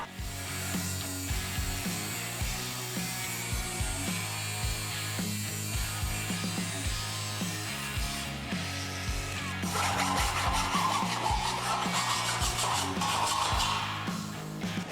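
Cutting a steel U guide rail for a roll-up door: repeated rasping, ratcheting strokes of a cutting tool on metal, close and steady, turning into a harsher, brighter grind near the end, with no talking.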